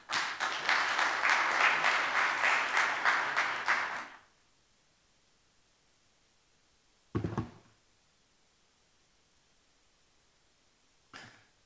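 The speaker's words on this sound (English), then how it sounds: "join me in applauding Professor" An audience at the opening ceremony of a psychiatry congress in Abu Dhabi applauds for about four seconds as a professor is called to the floor. Quiet follows, broken by a single sharp knock and a faint later thump.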